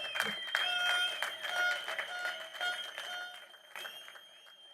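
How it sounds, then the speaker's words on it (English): A crowd at a political campaign rally for a candidate on Cayman Brac claps in scattered bursts, mixed with sustained tonal sounds like music and brief voices, rising and falling over nearly five seconds. "This, my notes say, applause."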